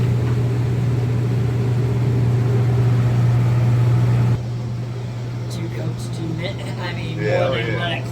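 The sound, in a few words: fans and heaters running loudly in a garage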